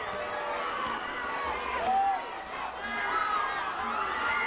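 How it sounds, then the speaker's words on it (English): A parade crowd in downtown Miami cheering for the Florida Marlins, the 2003 World Series champions, a broad sustained roar of many distant voices with a whistle or shout rising briefly over it. "Listen to this crowd excited over the Florida Marlins and World Series champions."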